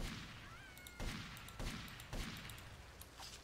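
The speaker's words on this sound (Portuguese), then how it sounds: "Mano, tô dando tiro na tua cara" Gunfire in the GTA Vice City remaster video game comes as about four sharp gunshots in an irregular sequence over a constant noisy game background, fairly quiet overall.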